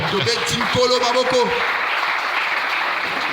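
A church congregation bursts into applause and cheering at a call to praise the Lord, a dense clapping wash lasting a few seconds with voices over it at first, then fading to a lighter patter.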